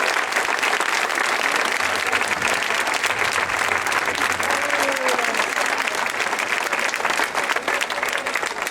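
Sustained applause from a crowd at a religious festival in Saintes-Maries-de-la-Mer, dense and continuous clapping that fills the whole stretch without pause.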